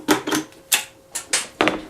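Rivet gun setting a rivet while assembling an X-wing helmet, heard as six sharp, close mechanical clacks in an uneven rhythm with no talking.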